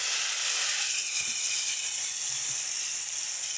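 A spice paste of chilli, turmeric, cumin, coriander, ginger and garlic sizzles with fried potatoes in a pan, giving a loud, bright, steady hiss with a couple of faint soft knocks underneath.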